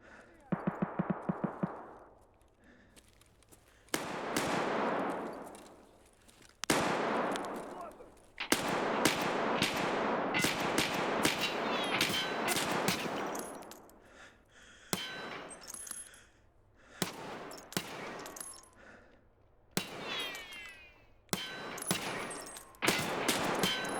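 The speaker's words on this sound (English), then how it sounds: "Those pistol shots upstairs." Pistol shots ring out upstairs in a shooter video game, a long run of sharp, echoing bangs. They come in bursts and single cracks with reverberant tails, some loud and some muffled, and no talking.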